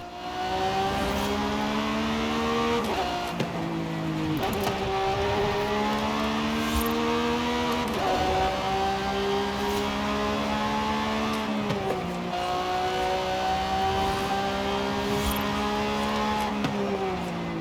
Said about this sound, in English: I can't really tell if this is the same engine noise or exhaust noise as the Aventadors in this game